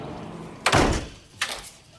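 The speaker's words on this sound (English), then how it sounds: "Shut the door." A door is shut with a firm slam, followed a moment later by a second, lighter thud as it settles or is pushed closed again.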